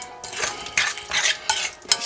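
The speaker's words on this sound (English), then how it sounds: "Stir it up." A spoon stirs tzatziki sauce in a bowl, making several quick, wet scraping strokes close by, with no voices.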